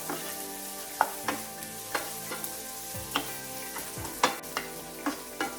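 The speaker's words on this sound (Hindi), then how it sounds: "अब इन सारी चीजों को अच्छे से मिक्स कर देंगे" Tomatoes and salt stirred in a frying pan for paneer bhurji over a soft sizzle, with regular spatula taps and scrapes against the pan about once a second.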